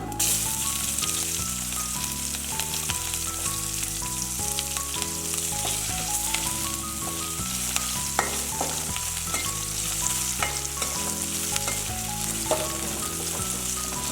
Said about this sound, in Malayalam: എല്ലാം കൂടി ഒന്ന് വഴറ്റാം. സവാള ഇട്ട് കൊടുക്കാം.